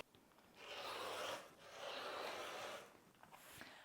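A rotary cutter trims fabric along a ruler for a tote bag, giving two soft, steady rasping strokes of about a second each, quiet and close, with no talking.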